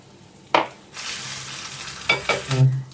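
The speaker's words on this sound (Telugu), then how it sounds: "ఇప్పుడు మన పోపు అంతా చక్కగా వేగిందండి" Spices and curry leaves crackle and sizzle in hot oil as a tempering, close up, with a couple of sharp clinks and stirring scrapes over the steady frying hiss.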